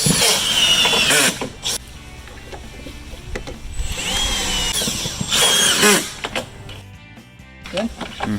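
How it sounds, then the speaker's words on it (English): A power drill drives screws through hidden Camo clip fasteners into Trex composite decking boards, heard as two loud whirring bursts close by with a ratcheting clutch. Quieter handling noises fill the gaps, and voices talk in between. "Make sure on your drill settings, depending on your drill, you want to set it either 1, 2, or 3."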